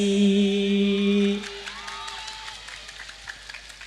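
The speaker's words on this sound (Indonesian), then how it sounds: "Gitu doang tepuk tangan ya." A brief burst of audience clapping at a religious lecture for Isra Mi'raj, heard faintly behind a sustained musical tone that cuts off, then scattered claps trailing away.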